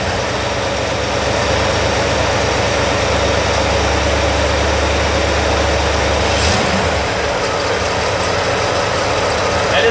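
Small engine idling loud and close after its carburetor mixture screw is adjusted, a steady rumbling drone with a fast pulsing beat that shifts slightly partway through.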